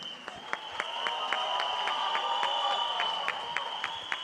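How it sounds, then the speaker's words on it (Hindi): Audience applause for a team at the close of an event, with steady clapping as a dense wash and regular sharper claps standing out over a sustained tone, moderately loud throughout. "एक बार जोरदार तालियां for this team"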